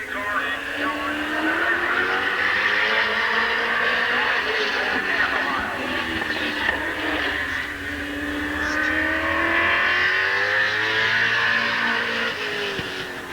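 Race cars circle Midvale Speedway at a 1988 oval track event, a continuous loud engine drone rising and falling as they pass, heard from the grandstand distance with crowd and track ambience.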